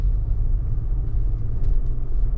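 An old high-mileage car bought at auction with a fault makes a steady, loud low rumble and engine drone while driving, continuous throughout with no talk.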